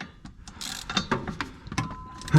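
A ratchet wrench clicks in quick uneven bursts on a 19 mm bolt head at the flex disc of a Mercedes C36 AMG, close and crisp, a short series of ratcheting strokes.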